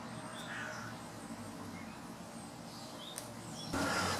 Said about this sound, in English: Damn you, crows. Go away.